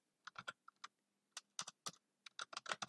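Typing on a computer keyboard, close and clear, in short irregular bursts of key clicks with brief pauses between them and no talking.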